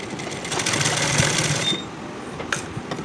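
Sewing machine stitching blouse lining fabric: a close, steady rapid whir for under two seconds, then stopping, followed by a few faint clicks and handling noises.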